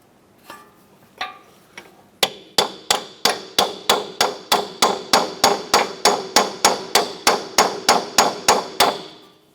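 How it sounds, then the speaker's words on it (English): Steady, evenly spaced metallic hammer strikes on a chisel prying up a front strut on a 2004-2008 Acura TL, about two or three per second, close and sharp, after a few initial taps. "Going to use a chisel here underneath the lip and just kind of pop that up and out."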